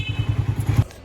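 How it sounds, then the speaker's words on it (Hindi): A motorcycle starting to move off, heard as a close, rhythmic low engine chug of about eight even pulses with some clatter, cutting off abruptly near the end. "इसके बाद मोटरसाइकिल निकालते हैं"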